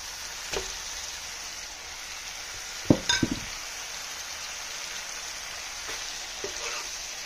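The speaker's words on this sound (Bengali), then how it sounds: "আমার মশলাটা ভাজা হয়ে গেছে, আমি এখানে দিয়ে দিব ট্যাংরা মাছ।" Tengra catfish fry in a pan of spice masala with a soft, steady sizzle, broken midway by a cluster of sharp metallic clinks from a utensil against the pan and a few lighter taps later.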